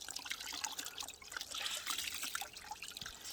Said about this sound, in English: just going to hand wring these out.